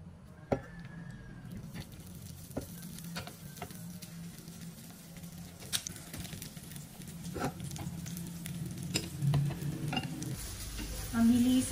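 Luncheon meat frying in oil makes a soft continuous sizzle with frequent spatter ticks and occasional scraping clicks, swelling louder toward the end, with no voices.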